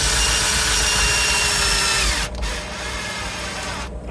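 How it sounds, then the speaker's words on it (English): A power drill whirs loudly and steadily up close while converting a Spector bass preamp, its motor pitch dropping as it winds down, then spinning again at lower speed. "Didn't have my drill prepped."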